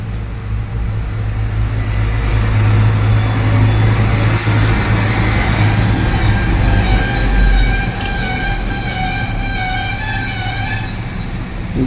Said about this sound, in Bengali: যানবাহনের আওয়াজটা প্রচণ্ড বেশি